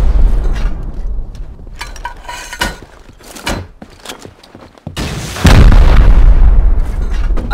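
Rockets blasting into a base during a raid in the video game Rust, heard as a series of loud, booming explosions with sharp bursts and a final heavy, sustained blast near the end.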